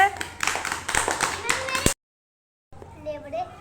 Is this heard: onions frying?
no